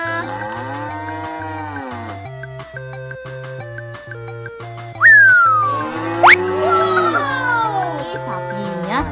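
A cartoon cow moos in a long, drawn-out call over a bouncy, colorful children's tune, the lowing rising and falling clearly above the steady music.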